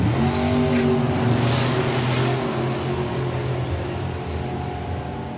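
Drag racing cars thunder toward the finish line at the FIA/FIM Euro Finals, loud and close at first, then fading slightly as they pull away, with no talk.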